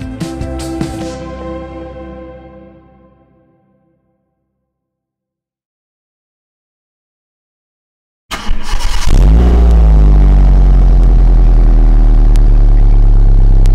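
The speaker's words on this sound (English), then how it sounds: "As for the exhaust note," A 2013 Hyundai i10 1.1 petrol manual hatchback: after a sharp clatter fading to silence, the engine starts and idles with a loud, steady close-up exhaust drone.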